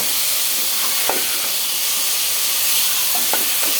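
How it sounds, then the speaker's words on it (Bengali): Rohu fish curry with potato and drumsticks being stirred in a frying pan, a steady frying hiss underneath with a few soft scraping strokes of the spoon against the pan. "এখন নাড়াচাড়া করে নিচ্ছি তরকারিটা আমি ভালোভাবে কষিয়ে নেব"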